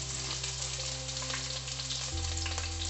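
Onions frying in oil for a Tulu-style bangude (mackerel) fish curry sizzle steadily up close, with a low hum underneath that shifts partway through and no talking.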